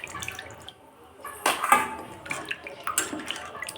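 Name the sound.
washing raw chicken pieces under running tap water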